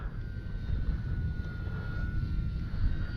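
Arrows RC Skycruiser model plane in manual mode, its electric motor droning steadily under throttle at a distance, a continuous even buzz with a faint high whine and outdoor wind rumble throughout.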